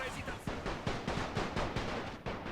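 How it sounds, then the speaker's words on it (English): Artillery and rifle fire in the World War I strategy game The Great War, a rapid series of loud gunshot cracks and booms repeating every fraction of a second, dense and close with no talk. "they're receiving artillery fire as well as rifle fire"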